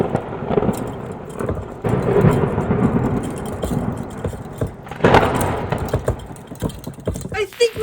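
A thunderstorm sound effect plays in a monster craft skit, with rumbling thunder and rain-like noise rolling on throughout and a louder crash partway through.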